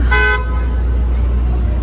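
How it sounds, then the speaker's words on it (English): A loud, close car horn toots once over a constant roar of New York City street traffic in the Financial District, with the engine and road rumble carrying on steadily after the honk fades. "Traffic, lots of traffic, lots of people."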